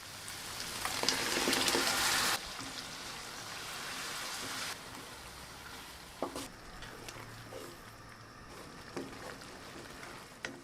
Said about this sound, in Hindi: अब टमाटर पेस्ट डालकर मसाला भून लेंगे।